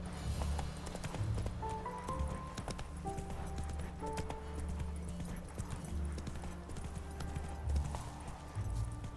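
Horse hooves clip-clopping at a steady gallop in The Witcher 3, with steady game background sound and a few faint tonal notes, holding moderate loudness throughout.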